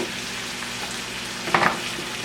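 Cilantro, green onion and cumin frying in a hot pan on medium-high heat, giving a steady close sizzle with a brief louder crackle of stirring near the end.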